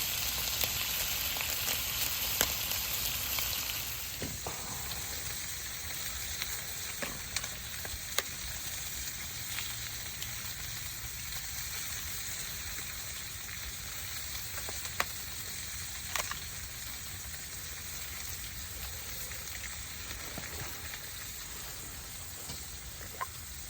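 French toast fries in a pan at a snowy bushcraft camp, a close, steady sizzle and hiss with scattered crackles and occasional clinks of a utensil, fading slightly in loudness after the first few seconds.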